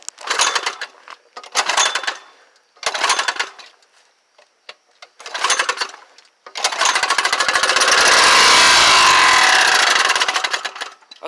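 A fire-damaged Yamaha Riva scooter engine, with a scorched carburetor just fed fuel, sputters through several short bursts. It then catches and runs for a few seconds in a loud, harsh, buzzing rattle close by.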